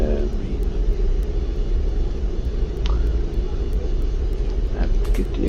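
An MD-80 airliner approaches to land at LHBP in the X-Plane 11 flight simulator, heard as a steady low engine rumble and hum with a few faint clicks, running the whole time with no voices.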